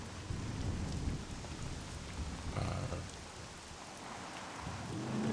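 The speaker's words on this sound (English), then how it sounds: "the thunder is going to be louder, but the thunder is a lot louder than the car anyway" Steady video game rain hisses throughout while low rumbles of thunder roll underneath, with no voices present.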